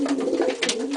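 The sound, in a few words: pigeons cooing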